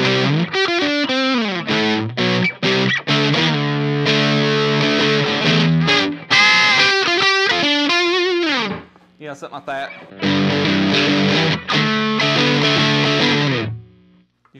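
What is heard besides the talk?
electric guitar through Dr. Z Carmen Ghia overdrive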